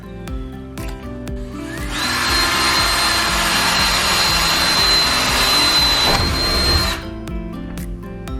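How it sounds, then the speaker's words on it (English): A power drill revs up and whines steadily for about five seconds driving self-drilling screws into metal on a bus, then stops, with clattering and light handling noises before and after. "we are having to drill pilot holes and use these self-drilling metal to metal screws"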